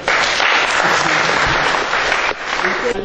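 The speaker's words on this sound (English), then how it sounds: "Please clap for him." Students at a skill acquisition training centre in Calabar, Nigeria, break into dense, loud, continuous applause that carries on steadily with only a slight dip near the end.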